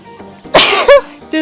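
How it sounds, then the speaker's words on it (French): A woman's single sharp sneeze, a quick intake followed by an explosive burst and a short tail, close and loud in a quiet room. "Pardon, je vais éternuer."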